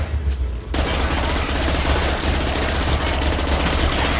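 Rapid automatic gunfire in the shooter game Mass Effect 2 rattles in a dense, loud burst that starts abruptly and continues without letup.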